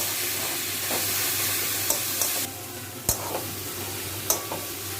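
Beetroot sautéing in a pan with salt, a steady sizzle broken by several sharp scraping knocks as a utensil stirs, close by with no talk.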